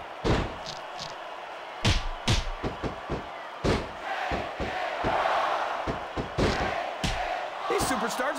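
Crowd roaring and cheering in a WWE wrestling video game, loud and continuous, punctuated by repeated heavy slams and thuds from the ring, with commentary talk over it.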